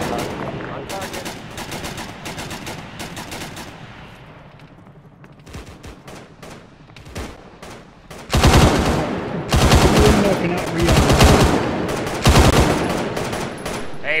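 A large machine gun firing in a military engagement, rapid bursts of heavy gunfire that grow louder and denser partway through, with radio-style voices talking around it.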